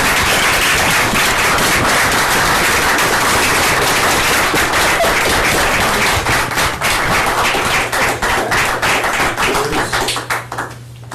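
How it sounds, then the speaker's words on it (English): Audience at a town council meeting in Abingdon breaks into a round of applause, dense sustained clapping that carries on loudly, then thins into scattered individual claps before fading near the end. "if everyone will join me in a nice round of applause"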